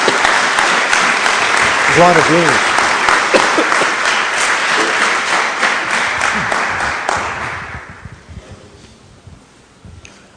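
A church congregation bursts into loud, sustained applause that thins and fades away toward the end, while a voice calls out briefly over the clapping.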